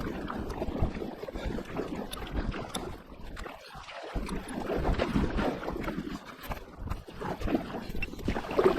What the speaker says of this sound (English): More bloody paddling. There's been so much paddling today.